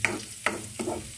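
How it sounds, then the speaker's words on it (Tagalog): Minced garlic frying in a small amount of oil, with short scraping stirs breaking up a close, soft sizzle over just over a second. "Unahin natin ang garlic, bawang."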